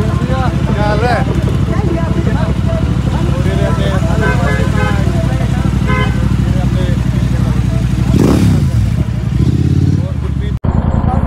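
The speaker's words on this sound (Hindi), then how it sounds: "सब ने अपनी बाइक जो है स्टार्ट कर दी" Several motorcycles idling and revving together at a group start before a snow ride to Patnitop, with horn toots and steady engine drone under continuous nearby talk, ending in a sudden cutoff.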